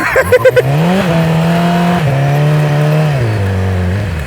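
A Yamaha R6 motorcycle engine on a bumpy road holds a loud, close, steady droning tone whose pitch dips and shifts in steps as the throttle wavers, preceded by a few quick clicks at the start.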